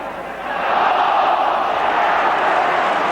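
A football stadium crowd at a Liverpool v Chelsea match swells into a sustained, broad roar of anticipation, rising after a quieter first half-second and holding steady and loud throughout.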